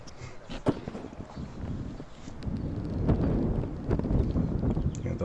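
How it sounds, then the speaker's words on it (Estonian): Wind gusts steadily across a microphone outdoors at a discus throwing competition, building into a louder, continuous rumble with no speech heard. "Ja taustal jälle kuuleme tuulepoissi"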